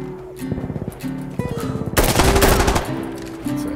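Gunfire in the video game Insurgency Sandstorm, starting as rhythmic bursts of automatic shots and building to a loud, dense volley near the middle before trailing into scattered further shots.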